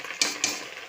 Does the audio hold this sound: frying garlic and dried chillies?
yes